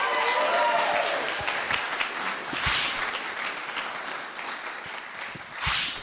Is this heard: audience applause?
yes